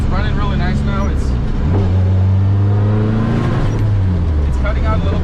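A tuned Nissan 240SX engine running slightly rich, loud and close, revving up and settling into a steady rumble with a rise and fall in pitch through the clip.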